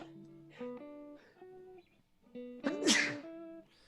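A single close sneeze bursts out sharply during a music theory lesson, cutting across sustained piano-like tones playing before and after it.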